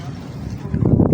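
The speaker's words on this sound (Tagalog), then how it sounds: "Ang ganang hangin eh." Steady wind rushing and buffeting across the microphone at a fishing spot in Binangonan, Rizal, growing louder and gustier toward the end, with low rumbling beneath.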